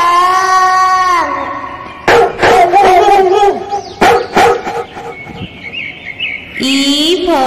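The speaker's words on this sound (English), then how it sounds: "D for dog." A cartoon dog barks several times, short sharp barks in a quick cluster, set inside a cheerful children's phonics song with sung melody and music before and after.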